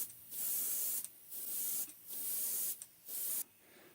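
An airbrush sprays light coats of white paint onto the belly of a threadfin shad fishing lure, with four steady hissing bursts separated by short pauses, close and clear.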